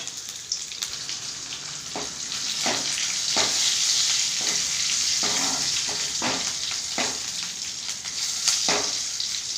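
Hot oil sizzles and crackles steadily as spices temper in a ladle for sambar, with intermittent pops and a few stirring clicks, close and fairly loud.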